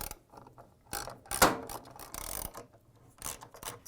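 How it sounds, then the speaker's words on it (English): Three 13mm bolts are worked loose with a ratchet wrench from the rear counterweight of a Whirlpool, KitchenAid or Maytag washing machine tub. The sound comes as close, intermittent bursts of metallic clicking and grinding with short pauses between turns and no talk. "To remove the rear counterweight, we need to take out the three 13mm bolts."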